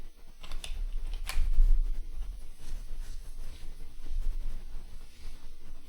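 A few faint, scattered computer keyboard clicks as a search word is typed into a texture library, set against a low background hum.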